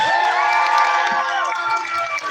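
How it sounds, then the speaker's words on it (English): A crowd at a fan fest panel cheers loudly, with whoops and shouted voices over a short burst of applause, close and energetic throughout. "Give him another round of applause."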